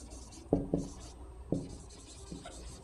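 A few sharp taps and short scratchy strokes of writing on a board sound in a quiet classroom, with two quick marks, a pause, then another, and a fainter one near the end.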